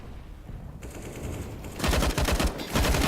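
Dense bursts of AK rifle fire mixed with AWP sniper shots during a competitive Counter-Strike match, starting softer and growing into loud, rapid close-range volleys.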